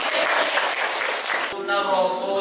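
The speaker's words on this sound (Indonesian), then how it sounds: "Oke, tepuk tangan." A classroom of students claps their hands together in a dense burst of applause for about a second and a half, then it cuts off abruptly as people start speaking.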